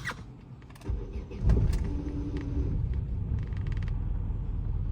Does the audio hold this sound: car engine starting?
yes